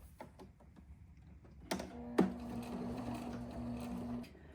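A sewing machine stitches a tiny teddy bear one slow stitch at a time, the needle turned by hand wheel and foot control; a few soft clicks lead into a steady, close motor hum that runs for a couple of seconds.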